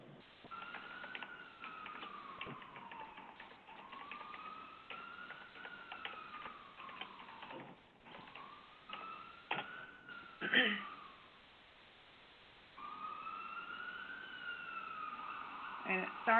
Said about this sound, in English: sorry about these sirens. Hopefully they'll pass quickly.